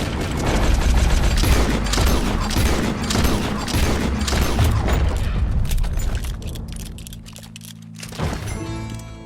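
Gunfire in Red Dead Redemption 2, a rapid run of sharp booming shots and mechanical clatter over loud game noise, thinning toward the end with a few scattered cracks.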